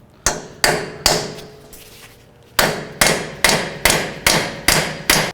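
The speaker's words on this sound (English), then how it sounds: "what you can do is tap this socket, which will push the stud and push the hub out of the knuckle" A hammer strikes a socket to drive the hub out of the steering knuckle on a 2007-17 Jeep Wrangler front end. About ten sharp, loud metallic taps ring out, three quick ones, then a pause, then seven in a steady rhythm.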